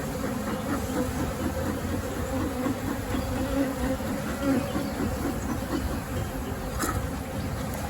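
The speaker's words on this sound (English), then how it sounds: "Get the bees to kind of move off the lid area" Honey bees buzz in a dense, steady drone around a nuc hive being smoked and closed, loud and close throughout with no voices.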